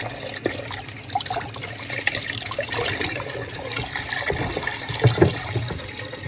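A little water is poured into a cooking pot while making Ilocano-style paksiw with large chili peppers, a soft trickling and splashing over kitchen background noise, with a brief louder splash near the end.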